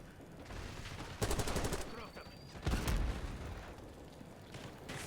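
Video game gunfight with a Krig C rifle and an LMG, dense rapid bursts of automatic fire in two loud clusters over a rumbling background, with scattered further shots.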